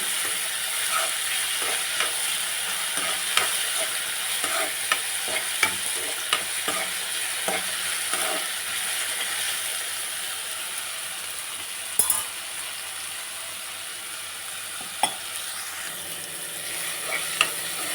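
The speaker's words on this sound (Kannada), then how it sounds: "ಉಪ್ಪು ಸೇರಿಸಿ ಚೆನ್ನಾಗಿ ಫ್ರೈ ಮಾಡಿ" Upma sizzles in oil with salt in a pan while a spoon scrapes and stirs it. A steady frying hiss runs throughout, with occasional clinks of the spoon against the pan standing out.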